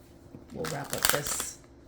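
A deck of prophecy guidance cards is shuffled close by in a quiet room, giving a brief, soft riffling flutter that lasts about a second.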